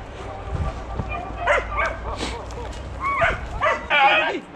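A hunting dog, among greyhounds and beagles on a rabbit hunt, gives several yips and barks mixed with whimpers while people talk and shout nearby.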